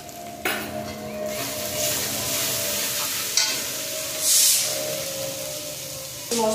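Spice paste for a rohu fish and cauliflower curry fries in a pan with a constant close sizzle, broken by scraping stirs and occasional sharper spits and bursts of hiss.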